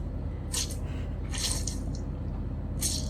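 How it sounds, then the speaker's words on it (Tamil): A water-soaked sponge squeezed in three short wet squishing bursts with brief pauses between, close and fairly quiet over a low steady background hum. "Sponge squeezing sound."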